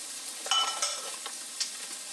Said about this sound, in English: And I'm going to cook down our onions, our celery,